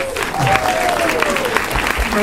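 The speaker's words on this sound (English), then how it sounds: "Let's give them a round of applause." Audience applause closing a film festival panel discussion, dense and loud clapping throughout, with a voice speaking over it and a tonal sound gliding briefly near the start.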